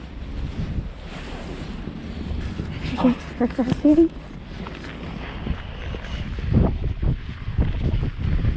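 Strong spring blizzard wind in Astana, Kazakhstan, buffets the microphone in a constant low roar, with people talking over it and a few louder gusts.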